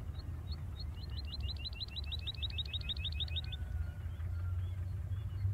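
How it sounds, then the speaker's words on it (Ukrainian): Birds sing in the Total Conflict: Resistance video game, a repeated run of quick, bright chirps over a steady low rumble of background ambience, heard alone without talk. "Пташки"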